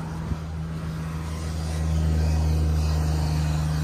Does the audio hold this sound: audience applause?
no